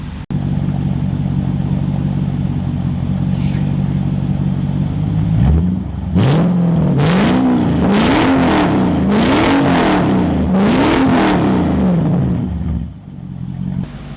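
Mercedes CLK55 AMG with the M113 engine idling steadily, then revved several times in rising and falling sweeps before settling back to idle, loud and close.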